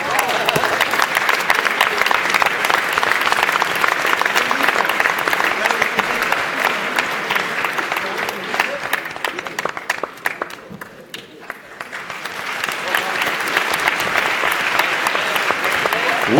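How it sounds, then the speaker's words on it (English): Thick, sustained applause fills a hall at a startup award ceremony as the Amparo team is called up. The clapping dips briefly halfway through, then swells again, and voices are audible underneath. "Please applaud."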